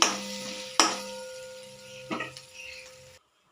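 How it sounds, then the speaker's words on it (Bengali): Coriander leaves stirred into a potato curry in a pan, two or three distinct spoon scrapes and clinks over a soft sizzle, close and quiet, ending abruptly. "অল্প পরিমাণে একটু ধনে পাতা দিয়ে দিলাম একটু নাড়াচাড়া করে নিলাম"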